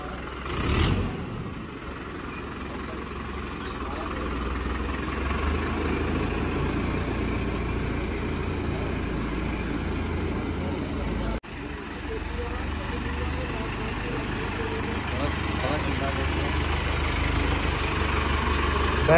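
A John Deere 5050D tractor engine idles with a steady, even low rumble, holding the same level throughout, with faint voices in the background.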